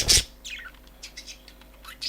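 A loud high chirp from a bird in a Minecraft-style modded video game opens, followed by softer scattered tweets and calls over a quiet hum.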